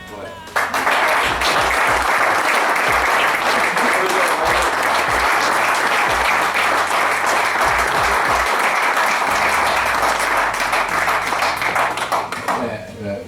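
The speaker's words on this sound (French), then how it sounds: "Je vois que c'est un succès par les applaudissements" Loud, sustained applause from an enduro event audience, dense clapping that fills nearly the whole stretch before tapering at the end.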